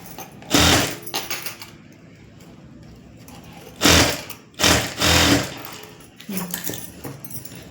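A sewing machine stitches a blouse in several short bursts of loud, rapid mechanical whirring, separated by quiet pauses.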